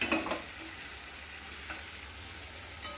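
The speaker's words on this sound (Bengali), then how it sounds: "এই সময় আমি ভাজা মৌরলা মাছগুলো দিয়ে দিলাম" Fried mourala fish drop into sizzling spice masala in oil, a soft steady sizzle with a few stirring scrapes and light knocks near the start and end, close and fairly quiet, without speech.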